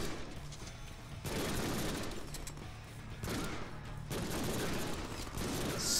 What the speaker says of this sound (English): Pistols are so much louder after getting upgraded.